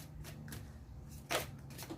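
A deck of oracle cards being shuffled by hand, soft close riffling and sliding with one brief louder flutter of cards in the middle, no talking.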